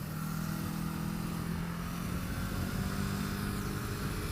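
Motorcycle riding a mountain road at Wolf Pen Gap, its engine a loud, continuous low drone with steady wind rush, sustained and unbroken throughout.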